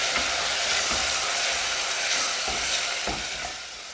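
Tomatoes hit a hot pan of browned onions, garlic and ginger, giving a loud, steady broadband sizzle that hisses close up and fades slightly toward the end, with a few soft knocks underneath.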